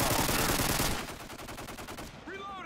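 Rapid automatic gunfire in a first-person shooter video game, a dense burst of shots that stops abruptly, followed by a short electronic effect sound.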